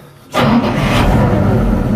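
A BRDM armored vehicle's engine cranks and catches abruptly, then settles into a loud, steady low rumble that fills the rest of the moment.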